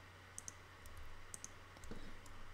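Computer mouse clicks while plugins are switched off in audio mixing software: a few sharp, quiet, close clicks in pairs over a low steady hum, with no talking.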